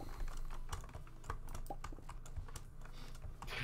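Rapid typing on a computer keyboard, dense irregular key clicks and clacks close to the microphone, continuous for a few seconds with no talking.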